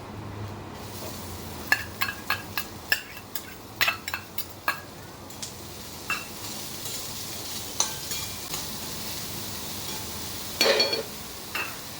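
Chopped mixed vegetables tossed onto softened onions in a hot pan: a steady frying sizzle under a run of sharp spatula and metal scrapes and clinks, loudest in the opening seconds and again near the end, with no talking.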